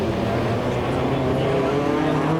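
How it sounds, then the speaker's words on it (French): A Tourisme Cup touring race car passing on the Montauban-de-Bretagne circuit during its final lap, its engine a loud, sustained roar that holds steady through the clip, with no talking. "Michael Dupuis qui passe devant nous là pour son dernier tour."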